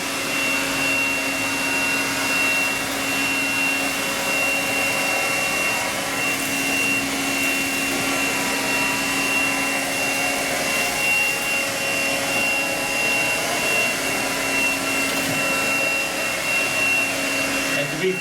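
Dyson DC35 Digital Slim and Hoover Linx cordless stick vacuums being run along a floor edge, giving a loud, steady motor whine with a constant high tone that holds unbroken throughout.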